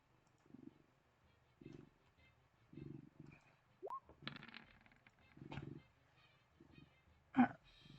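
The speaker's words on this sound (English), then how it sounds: "Are you purring so that they can hear you?" A pet cat purring close to a microphone during a tabletop game session, heard as soft low rumbling bursts in a rhythmic series, with quiet voices and a few clicks around it.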